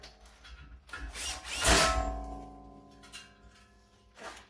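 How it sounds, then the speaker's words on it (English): A power drill with a 25mm hole saw whirs up briefly, rising in pitch and then fading, with a short second burst near the end. "Now it's time to start drilling. So I've got a 25mm drill."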